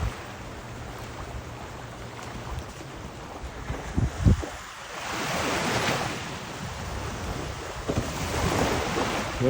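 Surf washes onto Kaanapali Beach in Hawaii, a rolling wash of breaking waves that surges and recedes, mixed with gusts of wind buffeting the microphone.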